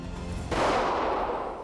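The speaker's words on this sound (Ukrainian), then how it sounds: "І ще три постріли." A single loud pistol shot fired during handgun shooting practice at a range, a sharp crack about half a second in, trailing into a long, broad echo that fades slowly.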